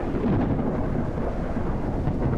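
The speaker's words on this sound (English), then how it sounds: "It sounds like the storm's getting worse." Thunderstorm in the Detective: Rainy Night game: a deep, sustained rumble of thunder rolls loudly and steadily throughout, heavy in the low end, with no voices.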